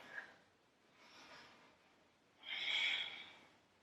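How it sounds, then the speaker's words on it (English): Deep breathing from a person doing a core workout on a mat: three soft, airy breaths, the last a longer and louder exhale, close and quiet with no talk. "I'm sure you can hear me breathing right now."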